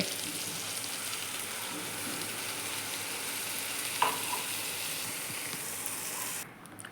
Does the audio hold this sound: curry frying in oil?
yes